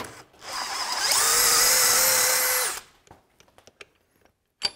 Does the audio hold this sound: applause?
no